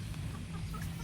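Soft, scattered clucking from a few stressed chickens after rain, over a steady low background hum, quiet and brief.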